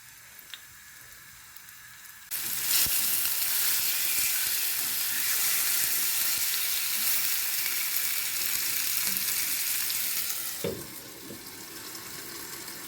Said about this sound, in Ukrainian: Гарно промариновані грудки я викладаю на сковорідку, щоб вони підсмажилися з обох сторін.